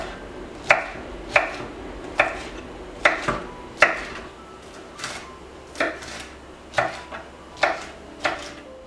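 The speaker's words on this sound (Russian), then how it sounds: "Также начищаем и кубиком нарезаем" Thin-walled green bell pepper is diced into cubes on a board, a dozen crisp knife chops falling in an uneven rhythm, close and clear.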